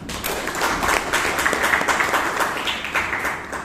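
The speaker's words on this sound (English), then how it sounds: "Round of applause, Mr. Farhan." Audience at a Bangalore Toastmasters club meeting giving a round of applause for a member coming up to speak, dense steady clapping from many people filling the room for several seconds.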